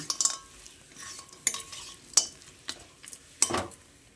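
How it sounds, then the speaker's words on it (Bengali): Fried lentil nuggets being stirred together with drumstick flowers in a pan, giving a few separate scraping clinks of a spatula against the metal over a faint sizzle, close and fairly quiet with no talking. "ডালের বড়িগুলো দিয়ে সজনে ফুলের সঙ্গে ভালোভাবে মিশিয়ে নিচ্ছি"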